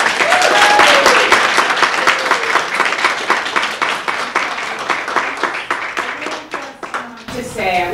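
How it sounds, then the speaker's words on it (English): Loud, dense applause from an audience in a courtroom at an adoption-day ceremony, clapping steadily for several seconds before tapering off, with voices cheering over it and speech resuming at the end. "let's give Laura Joyce and her family a round of applause"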